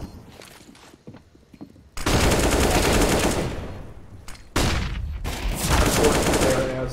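Gunfire in a Counter-Strike match on the Vertigo map: quiet scattered shots and footsteps, then two long, loud bursts of rapid automatic fire close up with brief gaps between them.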